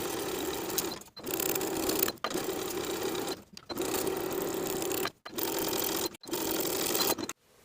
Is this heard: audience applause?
no